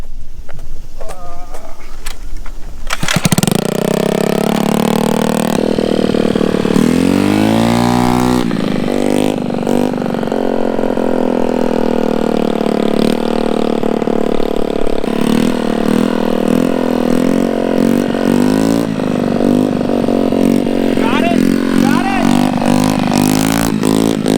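A Honda Ruckus scooter engine runs close by, idling and then revving in rising and falling sweeps, loud throughout, with people talking over it.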